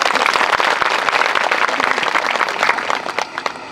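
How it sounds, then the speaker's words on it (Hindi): An audience at a Christmas gathering claps for a village head, a dense burst of hand claps that stays strong for about three seconds and then thins out toward the end, with no voices over it. "ताली बजाओ इनके लिए।"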